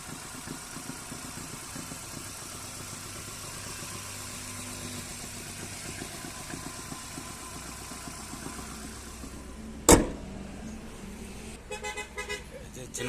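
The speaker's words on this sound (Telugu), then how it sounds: "ఇంజన్ సౌండ్ చూడండి." A 2014 Hyundai i10 Sportz petrol car idling with a steady low engine drone, interrupted near the end by a sharp loud click or knock followed by lighter rattling.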